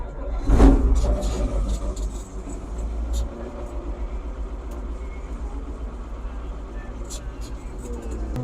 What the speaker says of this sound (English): So turn on my water to the pump, fire up the tractor.